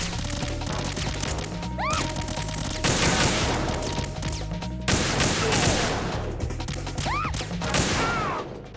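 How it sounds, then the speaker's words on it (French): Gunfire in Metal Gear Solid 2 rings out as dense, repeated bursts of shots and crashing impacts, loud and sustained across the stretch, with sharp whistling ricochet-like tones cutting through twice. "Qui c'est qui tire? Ah, c'est ces cons là-bas."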